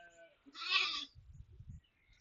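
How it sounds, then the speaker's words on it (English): A single sheep's bleat, a short nasal bleating cry at moderate volume, followed by low background murmur; the sheep sounds fairly close and stands alone without talk. "I hate sheep so much."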